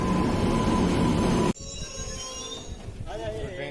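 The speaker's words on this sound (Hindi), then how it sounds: "ट्रेन आ चुकी है." A train pulls into a railway station on the Kulti to Dhanbad route with a loud, rushing rumble that cuts off abruptly. Long, high metallic wheel squeals follow as it slows, with faint background voices.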